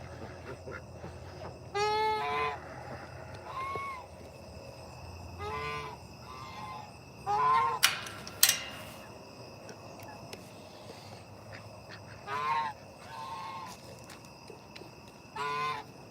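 Backyard geese honk in several separate bursts at feeding time, kept alongside ducks, chickens and turkeys, the calls fairly near and moderately loud over a low murmur of farmyard background.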